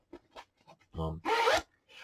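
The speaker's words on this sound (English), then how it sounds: "Then we have a very large zipper section here." A zipper on a 5.11 shoulder bag is pulled open close up: a few short scratchy tugs, then one long loud rasping pull and a final brief zip.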